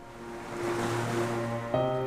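Ocean waves washing in a steady, low rush of surf that swells gradually and stays fairly quiet, with a brief bump near the end and no voices.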